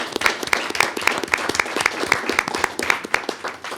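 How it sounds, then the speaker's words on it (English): A school board meeting audience claps for a cohort of administrative interns, a modest round of distinct, fairly regular hand claps that carries on steadily from start to finish, sounding like a small group. "Let's give them a great round of applause."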